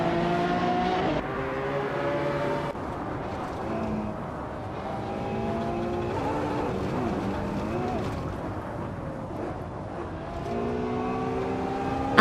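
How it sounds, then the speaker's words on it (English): Engines in a racing video game whine and rise in pitch as cars pass each other, steady and loud all the way through with shifting revs. "Botalo Coast is surging forward, passing 3 cars in quick succession and claiming 2nd place."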